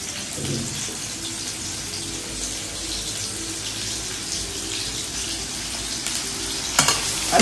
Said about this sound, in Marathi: आणि या ठिकाणी फ्रेश असा धुतलेला कांदा मी या ठिकाणी टाकत आहे